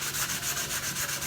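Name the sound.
sanding with 3M precision grade sandpaper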